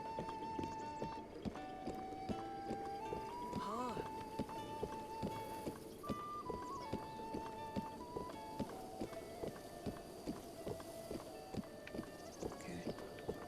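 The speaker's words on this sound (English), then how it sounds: "I'm working a horse right now." Horse hooves clip-clop steadily in the Breath of the Wild video game, a regular rhythmic trot of close, sharp hoof knocks running the whole length, layered over soft game music with faint tones.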